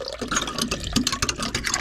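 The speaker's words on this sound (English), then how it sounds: "Water into the boat, fully flowing, perfect." Water gushes and splashes from a boat's cleared intake line, flowing steadily at close range with bubbling, dripping texture over the brief moment.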